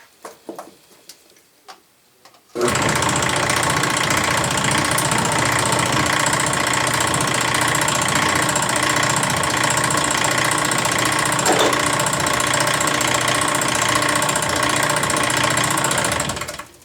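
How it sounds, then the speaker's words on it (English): A restored die filer runs on its test stand after a quiet start, a loud steady mechanical clatter with rapid rhythmic ticking and knocking from its reciprocating motor drive, continuing unbroken for many seconds. "The motor is mounted, it's ready to test run."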